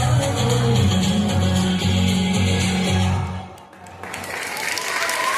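At a school Independence Day event, an audience claps after a dance performance as festive music plays loudly; the music cuts out midway and the applause carries on more thinly.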